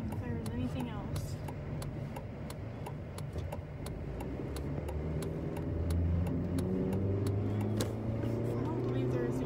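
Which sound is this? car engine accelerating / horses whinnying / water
car engine accelerating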